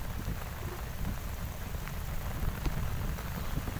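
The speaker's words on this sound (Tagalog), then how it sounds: "umuulan ngayon" Steady rain patters and hisses all around at Manila Bay with strong wind, constant and fairly soft, with occasional louder drops and a low rumbling wash underneath.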